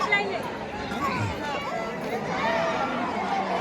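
A dense crowd of pilgrims at Jyotiba temple in Kolhapur, a continuous babble of many overlapping voices close by, steady and loud for the whole stretch.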